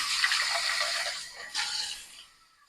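Room-temperature water poured into a pot of corn, a bright splashing pour that briefly surges and then tapers off quickly into silence, close and alone.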